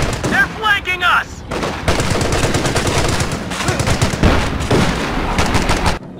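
Heavy machine gun fire in the Company of Heroes 2 video game, loud rapid bursts of automatic gunfire with scattered shots and blasts. Continuous and close, with brief shouted voices at the start.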